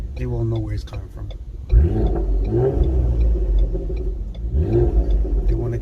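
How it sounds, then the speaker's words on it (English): A 2018 Ford Explorer Sport fitted with a custom X-pipe exhaust revs in two or three sharp blips, the engine note climbing and dropping close by over a steady idle. "They won't expect an Explorer to be making noise like this."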